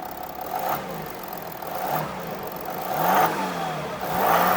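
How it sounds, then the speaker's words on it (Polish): Volkswagen Touareg R-Line with a 3.0 V6 TDI diesel in its 286-horsepower tune, a steady mid-pitched engine hum that swells in several revving pulses, close and fairly loud, no talk. "V6 w dieslu brzmi naprawdę znakomicie, oczywiście jak na diesla."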